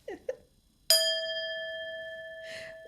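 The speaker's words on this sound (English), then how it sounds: "Let me hit the bell for this one" A small bell is struck once and rings out with a clear, sustained metallic tone that slowly decays. Two faint short sounds come just before it, and a soft brushing noise follows near the end.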